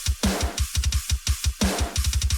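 A custom electronic drum pattern for a Doom Eternal metal remix: fast, tight kick hits driving a busy rhythm, punctuated by two bright, noisy snare cracks, loud and up front with no voices.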